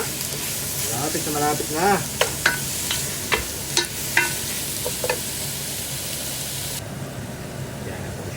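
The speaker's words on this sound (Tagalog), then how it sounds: "At ilagay naman po natin ngayon ang ating pork. Ating gisa natin po ngayon." Pork sautéing in a pan for noodles gives a steady, close sizzle and hiss, broken by sharp clinks and scrapes of stirring, while someone talks briefly over it.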